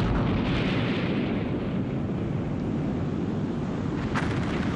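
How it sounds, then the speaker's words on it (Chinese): Archival recording of China's first hydrogen bomb explosion in June 1967: a continuous, dense, rumbling roar that holds steady throughout without distinct blasts, heard alone with no voices. "1967年6月，我国第一颗氢弹爆炸成功"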